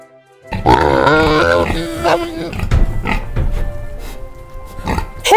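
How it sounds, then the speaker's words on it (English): A pig grunts and oinks up close in a rapid series of rough, throaty grunts, followed by looser, intermittent snorts and farmyard noise. "Pig."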